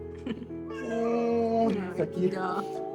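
A cat meows and cries close up, giving several drawn-out, wavering calls while someone speaks softly next to it.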